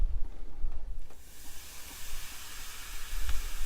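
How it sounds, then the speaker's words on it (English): Vinegar and baking soda fizz on a rusty cast iron pan, a steady soft hiss with faint crackling, close and continuous with no talk. "We got this vinegar and this soda in here. It was fizzing a while ago."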